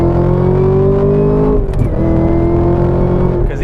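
A Camaro ZL1 with 650 horsepower accelerates hard in first gear, its loud engine note climbing steadily, dipping briefly at a shift-like break, then pulling strongly again.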